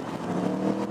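A 2018 Aprilia Dorsoduro 900 motorcycle engine under way, a brief, steady, loud engine drone with wind noise, heard from the rider's position and no speech.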